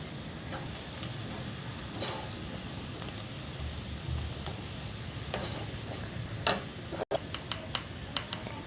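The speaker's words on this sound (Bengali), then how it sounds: "পেঁয়াজ এবং মরিচটাকে এরকম একটু লালচে কালার করে ভেজে" Onions and green chilies frying in hot oil in a home kitchen, a steady soft sizzle with occasional stirring clicks and scrapes of a spatula near the end, no talking.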